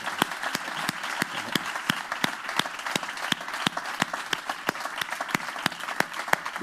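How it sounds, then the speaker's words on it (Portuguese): An audience at a photography talk at CASA SEAT applauds steadily, with crisp individual claps standing out over a continuous wash of clapping that holds at an even level throughout. "Palmas para Miguel, que me ayudó mucho."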